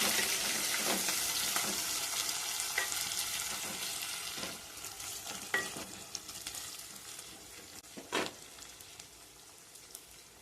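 Mutton pieces and tomato fry in hot oil for a village-style gongura dry curry, giving a steady close sizzle broken by several sharp stirring scrapes and pops, with no talking.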